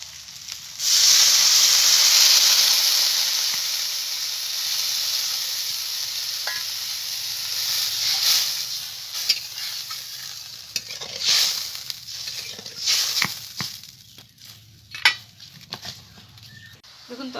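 Water poured into a hot pan while cooking a spicy fish jhal, a loud hissing burst of steam and sizzle at first that settles into bubbling sizzle with clinks and stirring, and faint speech.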